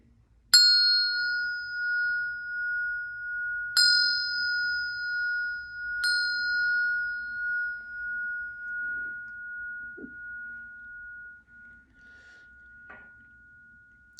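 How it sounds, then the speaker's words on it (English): A ringing bell is struck three times at spaced intervals, each clear metallic strike ringing on and slowly fading in a quiet room. "I'm going to hit the bell 3 more times"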